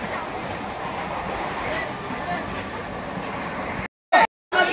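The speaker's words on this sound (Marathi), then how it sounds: "ट्रेन पण आली, कर्जतला जाणारी ट्रेन आहे." A train bound for Karjat rumbles past near a resort swimming pool at Neral, a steady broad rolling roar with faint wheel squeal, briefly cut by short gaps near the end.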